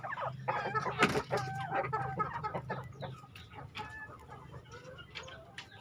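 A small breeding group of free-range chickens, five hens and one rooster, cluck and chatter in a tidy coop yard, with several overlapping calls up close and a busy, uneven rhythm throughout.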